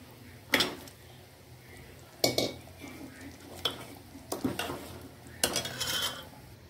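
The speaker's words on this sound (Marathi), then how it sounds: "तर इथे मी हा बांगडा टाकून घेतलेला आहे." Dried bangda mackerel goes into a boiling wet-ground chutney with several sharp pot and utensil clanks spaced a few seconds apart, each followed by brief stirring scrapes over a low simmering background.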